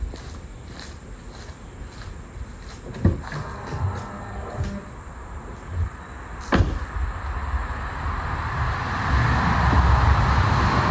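A 2011 Cadillac Escalade's replacement power running board motor whirs as the board moves, a steady mechanical hum with a few clunks and taps, growing louder toward the end, with no talk.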